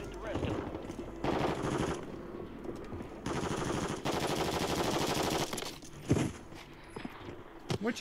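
Gunfire in Call of Duty Warzone Rebirth comes as rapid machine-gun bursts and single shots with quieter gaps between them, and footsteps and speech-like voices run underneath.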